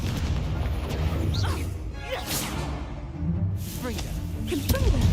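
Fiery Confringo blasting spells from the Hogwarts Legacy game, several booming bursts and whooshes over a dense battle-music and effects bed, with brief spoken shouts.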